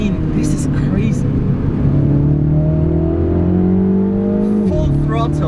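A 2020 Mini Cooper JCW's 2-litre turbo engine pulls hard at full throttle from inside the cabin, a loud steady drone climbing in pitch, then a quick abrupt upshift drops the revs near the end.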